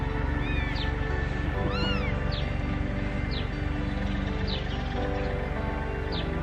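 An abandoned kitten meows repeatedly in short, high, rising cries spaced about a second apart, over a steady loud rumbling background on a hay farm.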